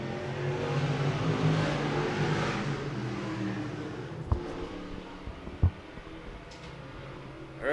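IMCA race cars in a Rookie Sportsman feature roar around a dirt track at Thunder Mountain, a loud sustained engine drone that swells and fades as cars pass, with a few sharp clunks and bangs near the end.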